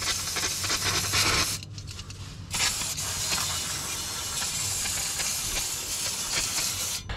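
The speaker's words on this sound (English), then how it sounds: "First I'm just going to clean it with some brake cleaner. Just spray it down a little bit." Loud bursts of aerosol brake cleaner spray hiss close by on an oil-covered engine part, a long spray, a short pause, then continuous spraying with scratchy rattles underneath.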